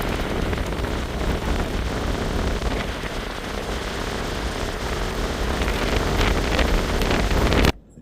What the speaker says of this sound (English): it's so windy out there I can't talk